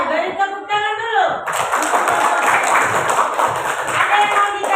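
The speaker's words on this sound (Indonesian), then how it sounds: "Oke, beri tepuk tangan dulu." Primary school students clap together in a classroom. A voice speaks briefly first, then a burst of brisk, close clapping fills the rest.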